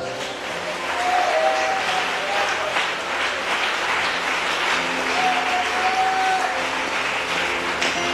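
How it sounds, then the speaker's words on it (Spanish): Church congregation clapping in worship during a sermon, a sustained wash of many hands with faint voices mixed in, steady and fairly loud for the whole stretch. "Dele palmas a Dios, iglesia"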